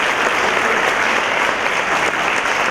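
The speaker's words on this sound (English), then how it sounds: "Can we just have one short round of applause for Mayor Stevens" Audience at an annual community meeting giving a short round of applause for a mayor, dense steady clapping from a crowd throughout.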